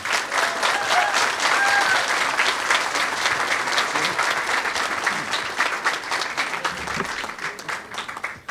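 Sustained applause from an audience at a Kenton County Library new branch opening in Latonia, Kentucky, greeting Covington's mayor; dense, steady clapping fills the whole stretch at close range, with a few whistles or cheers mixed in.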